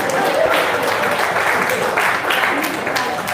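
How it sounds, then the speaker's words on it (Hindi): Audience applause at a relaxation talk, fairly loud and continuous clapping from a crowd with some voices mixed in. "तालियां बजाओ अच्छी तरह से।"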